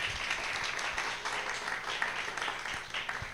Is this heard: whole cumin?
no